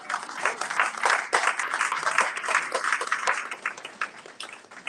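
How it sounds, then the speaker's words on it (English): Audience applause at a town hall for a Republican U.S. Senate candidate in Middlesex County, loud clapping from a modest crowd that swells quickly, stays busy and uneven, then thins out toward the end. "Big round of applause for Justin"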